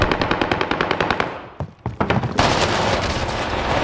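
Rapid automatic gunfire in the video game Warzone comes as a fast, even burst of sharp shots, then a few separate louder cracks and a denser rumbling blast, all close and loud, with no talking over them.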